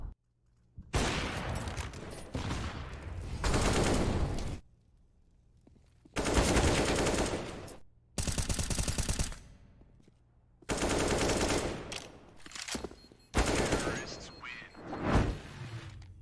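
Gunfire in a professional CS:GO match, CCT North Europe 2022: several dense bursts of rapid automatic shots and crisp single cracks, loud and close, separated by short quiet gaps.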